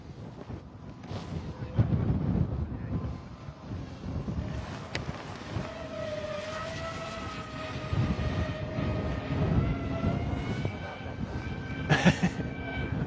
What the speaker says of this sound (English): Drone is really loud.